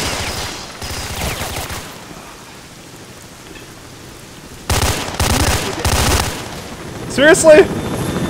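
A military helicopter fires on the player in the video game STALKER: Shadow of Chernobyl, loud rapid bursts of gunfire in separate volleys with quieter gaps between them, and a voice speaks briefly.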